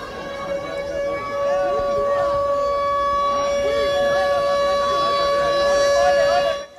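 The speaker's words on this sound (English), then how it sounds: "The sound of sirens got everyone's attention" A sustained wailing siren fills the air at a street rally in Houston, steady and loud, with a crowd murmuring faintly beneath it.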